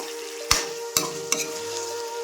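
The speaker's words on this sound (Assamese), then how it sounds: "এতিয়া মাংসখিনি পূৰা ভাজি হৈ গৈছে" Chicken meat sizzles steadily in a pan, with three sharp clanks of a utensil stirring against the metal.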